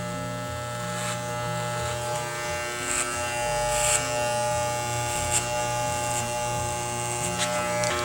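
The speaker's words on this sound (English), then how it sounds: "when you're ready to release the clipper from the scalp, I like to kind of flick my wrist up a little bit," Electric hair clipper running steadily at close range while cutting a men's fade on the back of the neck without a guard, a continuous motor buzz with brief brighter spikes as the blades meet hair.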